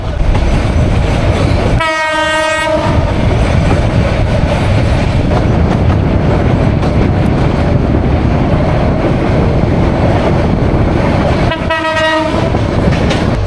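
The Cox's Bazar Express train rumbles loudly and steadily along the rails, with two blasts of its horn a few seconds apart, one early and one near the end.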